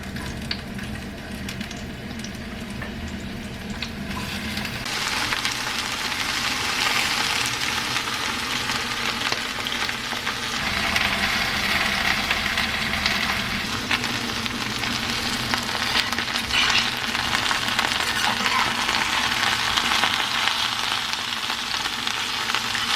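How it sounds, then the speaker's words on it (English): Squash sears in two hot pans at the same time, a steady broadband sizzle and frying hiss that holds through the whole stretch and swells a little after the first few seconds, with no talking. "So we're going to use both of these pans at the same time to sear our squash."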